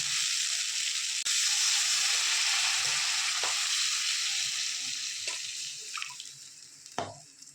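Water poured onto fried masala in a hot pan for a spicy tangra fish curry, opening with a loud rushing sizzle that slowly fades, then a few clinks and stirs near the end.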